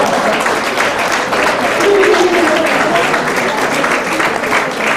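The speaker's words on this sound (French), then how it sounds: "Sous les applaudissements." A studio audience at a Téléthon broadcast applauds steadily, a dense wash of clapping with some crowd voices mixed in.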